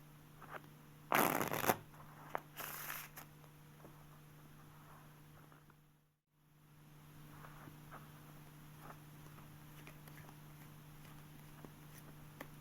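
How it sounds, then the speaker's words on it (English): Two quick bursts of riffled playing cards in a riffle shuffle with a bridge, the second briefly repeated, followed by a long stretch of quiet room hum. "Here's the riffle shuffle with the bridge at full speed."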